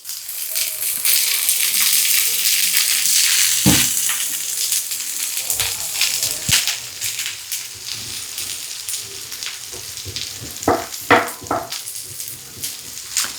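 Vegetables frying in a light film of oil inside an electric multimaker, a steady close hiss and crackle with scattered sharper pops and a few stirring knocks later on, with no talk.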